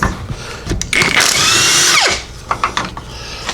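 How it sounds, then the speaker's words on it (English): A power tool whirs and ratchets while loosening engine bolts deep inside the frame rail of a 1947 Ford, a steady close grinding run that winds down and ends in a few metallic clicks. "I'm going to have to get a wrench on them through the frame rail."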